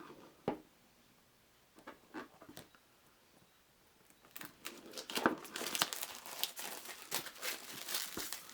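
A sealed Hero Card Galaxy board game box from TableStar Games being opened. Scattered crinkles give way to a denser, louder stretch of plastic wrap crinkling and tearing, close and without talk.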